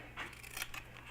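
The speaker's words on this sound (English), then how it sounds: "oh, I found my scissors." Scissors snipping through paper or flagging material for a scrap-wood pumpkin decoration, a few quick crisp cuts close by, quiet and alone.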